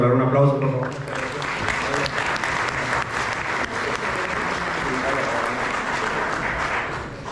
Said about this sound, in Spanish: a despedir a Claudia, nos podemos regalar un aplauso, por favor.